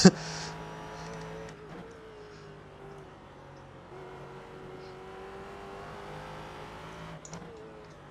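A prototype race car engine in a racing video game drones steadily at high revs, with its pitch shifting across the run and brief transient blips near the start and again around seven seconds.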